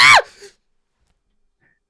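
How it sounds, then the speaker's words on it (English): A short, sharp scream rings out close and loud, falling in pitch, then cuts off into a faint breathy tail and silence. "I scream."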